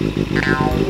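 A Kawasaki Z800 motorcycle engine revs with a loud, rough, pulsing roar through an aftermarket big-bike exhaust, throbbing in quick bursts over a brief moment.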